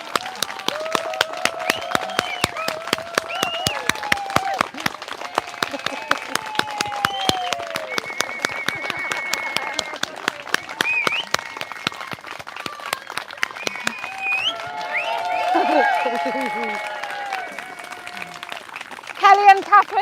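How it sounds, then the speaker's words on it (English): An outdoor crowd at Speakers' Corner claps in scattered, sharp bursts for a group of women, close and uneven, while several people talk and call out over it. "Do you want to stand up and have a round of applause?"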